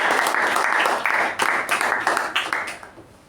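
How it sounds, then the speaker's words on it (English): Applause from a Toastmasters meeting audience for the speakers: dense, steady clapping, fairly close and loud, that swells in several bursts before tapering off near the end. "So let's give them a big round of applause."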